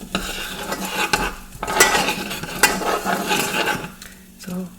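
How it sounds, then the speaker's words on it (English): Chicken sizzles in a pan while mozzarella chicken and lemony couscous are cooked, a steady frying hiss broken by utensil stirs and clinks against cookware, fairly close and continuous. "Now that it's sizzling, I can pretty much start the timer."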